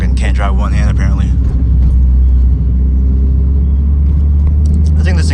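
A Toyota GR86 (ZN8) engine drones low and steady while driving on the street, a constant loud rumble with road noise throughout.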